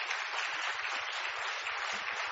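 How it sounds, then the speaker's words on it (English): Conference audience applauding at an EMF event in Stavanger, Norway: a steady, continuous wash of many hands clapping, moderately loud and even throughout, with no talking over it. "Let's give them a hand of applause."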